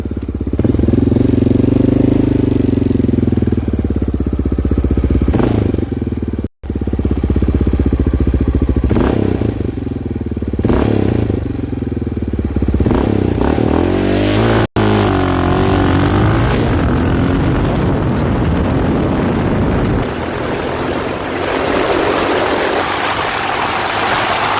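A Honda XR650L with a stage 1 performance kit accelerates hard through a 0 to 60 run, its loud single-cylinder engine climbing repeatedly through the gears with brief shift dips, up close throughout.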